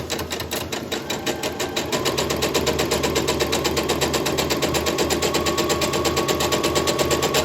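A sewing machine stitches quilt blocks with a 1/4 inch foot at stitch length 2, a close, rapid, steady mechanical rattle that picks up speed early and then holds an even pace.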